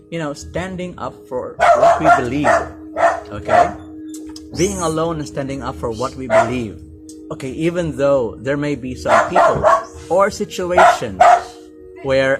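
Dogs bark and yip intermittently in the background while someone talks steadily over them indoors, the barking mostly under her voice with a few sharper outbursts.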